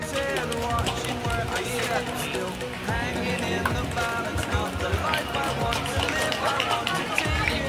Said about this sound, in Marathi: जोरात टाळ्या वाजवा जरा जोरात